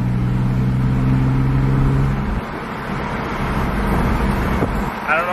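From inside a Porsche accelerating at around 50 mph, the engine drones with a steady tone that shifts upward partway through, over road and wind noise, loud and continuous.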